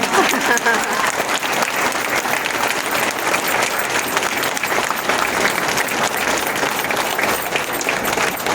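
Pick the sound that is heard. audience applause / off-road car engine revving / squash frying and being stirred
audience applause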